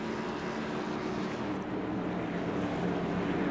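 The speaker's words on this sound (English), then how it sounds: "Getting the cars revved up" Race car engines rev and drone together during a restart behind the pace car at Kern Raceway, a steady, continuous roar of several motors with no talk over it.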